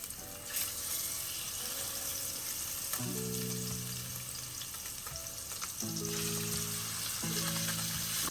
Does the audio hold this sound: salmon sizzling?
yes